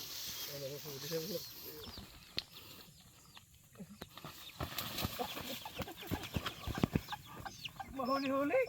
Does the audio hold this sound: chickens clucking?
yes